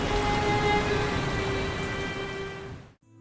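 Steady broadband rain wash, dense and even, runs for about three seconds as a sound effect for a flood story, then cuts off abruptly to near silence.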